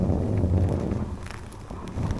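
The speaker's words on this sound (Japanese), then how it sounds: "雪を踏みしめる音聞こえるんですよ。" Tires of a 2024 Nissan X-Trail running on its electric motor alone crunch over snowy road in a soft, continuous granular rumble, steady and close with no engine noise and no talk.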